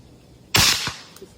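A single suppressed gunshot goes off during a shooting session, a sudden sharp muffled crack with a brief decaying tail, fairly loud and alone.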